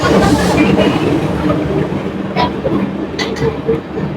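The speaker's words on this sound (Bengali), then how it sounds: "ট্রেন ছেড়ে বেরিয়ে যাচ্ছে" The 12885 Aranyak Express, running with LHB coaches on its first run, pulls away from the station in a loud, close, continuous rumble with rhythmic wheel clatter and a faint metallic squeal.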